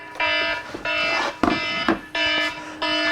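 Midday check-in alarm at the Sealand sea fort: four long, loud buzzing electronic tone blasts separated by short gaps, each steady and harsh, with a brief clatter in one pause.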